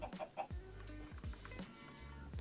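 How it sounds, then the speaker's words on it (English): Chickens clucking in the Minecraft video game, several short clucks in quick succession up close, over a steady background hum. "Oh, I forgot about the chickens."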